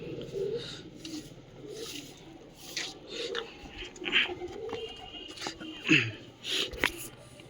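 Pigeons kept in a newly built home cage coo softly and repeatedly nearby, with occasional rustling and scraping between the calls.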